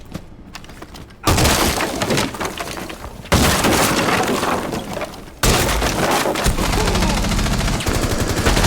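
Sustained, loud automatic gunfire during a competitive video game match, with dense rapid bursts that cut in abruptly and continue almost without pause, alongside sharp shattering impacts.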